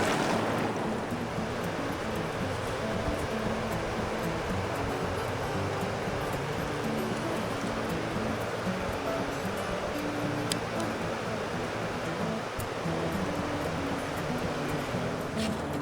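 A river flows in a continuous, loud broadband rush of water for the whole stretch, with no breaks or voices.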